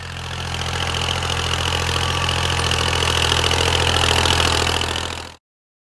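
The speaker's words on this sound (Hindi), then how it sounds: "वो सामने से आपको ट्रैक्टर आता नज़र आ रहा है" A tractor engine runs steadily while levelling a village field, a continuous close droning rumble with a low hum that holds even throughout before cutting off abruptly.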